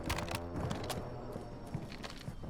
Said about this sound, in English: We've got 1 footstep above us.